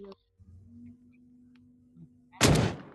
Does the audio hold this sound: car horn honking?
no